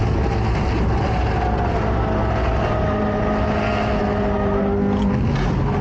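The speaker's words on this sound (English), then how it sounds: "Check out how this Renault Clio driver regains control after almost spinning out" Renault Clio engine held hard on the throttle while the car recovers from a near spin: a loud, sustained high-revving roar with shifting pitch continues throughout.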